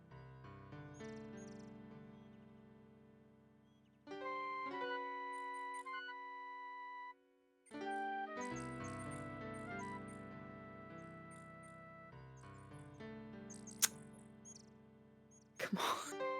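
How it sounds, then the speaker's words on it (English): A nightingale sings in the King's Quest VI video game, rendered as synthesized, tuneful warbling notes. The phrases are sustained and melodic, break off briefly twice, and end with a few sharper chirps. "The nightingale only looks at Alexander suspiciously and continues to sing."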